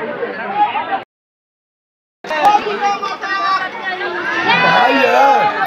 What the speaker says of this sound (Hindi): अभी माता मुंडेश्वरी टेंपल बहुत ज़्यादा काफ़ी भीड़ है